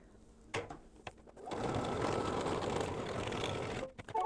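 An embroidery sewing machine stitching a mug rug in the hoop, opening with a few separate clicks before settling into a steady close whir of rapid stitching, then stopping with a few more knocks.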